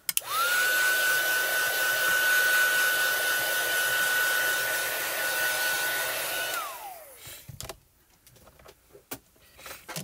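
A heat tool used to heat-set colouring runs as a loud steady whine and rush for about six seconds, then powers down with a falling tone, followed by a few light clicks and handling sounds.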